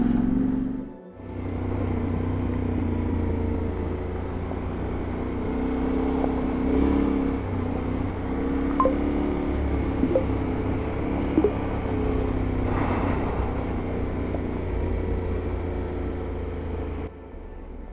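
A Yamaha Ténéré motorcycle climbs an off-road hill in Croatia, its engine a close, continuous rumbling drone with small surges in revs and one brief dip near the start, and no voices.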